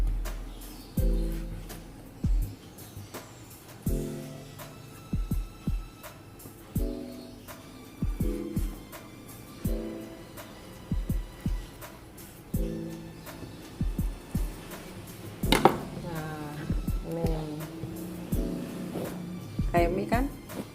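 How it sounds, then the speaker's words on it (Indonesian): A knife slices boiled beef into thin, noodle-like strips on a board, with soft thuds repeating at a steady pace while a person talks throughout. "Nih, potong aja tipis-tipis seperti mie."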